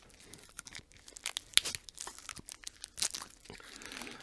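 Cardboard and plastic packaging on a MURFREESBORO-OPOLY Monopoly-style card deck is torn open with teeth, giving a run of close, sharp ripping and crinkling bursts, with one loud snap midway and no talking.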